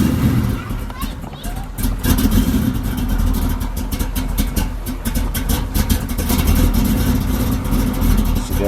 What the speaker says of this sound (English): I'm about to give y'all the cold start. Warming that up.